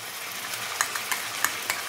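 Chicken curry being stirred in a pan with garlic and ginger paste, a soft steady scrape and sizzle broken by several light spoon clinks, close and fairly quiet.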